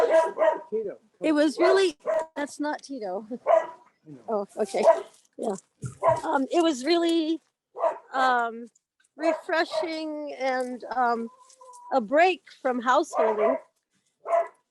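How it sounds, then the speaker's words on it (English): A neighbor's dog barks in the background, its calls scattered under steady, close conversational talk that runs almost the whole time. "That's the neighbor's dog."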